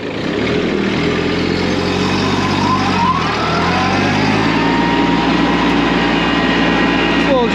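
A tractor in high road gear drives along with a loud, steady engine drone and shifting pitch, while someone talks over the motor.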